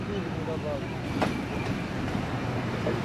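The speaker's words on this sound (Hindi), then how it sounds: "लोकोमोटिव लीड कर रहा है जी रहमान बाबा एक्सप्रेस को।" The Rehman Baba Express, led by a Chinese-built ZCO20 2000-horsepower locomotive, rolls along in Pakistan with a steady, continuous rumble of rail cars heard from on board.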